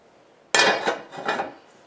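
A lid set onto a pot holding no-knead bread dough, one sudden metallic clatter followed by a couple of shorter scraping rattles as it settles, close and fairly loud.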